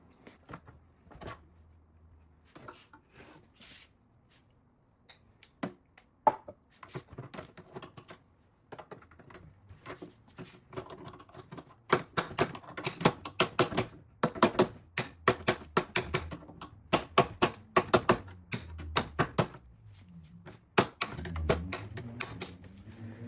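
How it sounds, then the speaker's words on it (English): Sharp metallic hammer-and-dolly strikes straightening a vintage GM car's metal panel, sparse at first, then rapid bursts of tapping, close and fairly loud with brief pauses between runs. "So now we're ready to hammer and dolly straighten things out."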